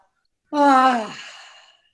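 A group breathes in and lets out one long, audible exhale together, a soft voiced sigh that swells and then fades slowly in an otherwise quiet room.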